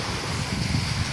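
Wind blowing at Libaong beach on Panglao, Bohol, a steady rushing roar buffeting the microphone, loud and continuous throughout the brief moment with no voices.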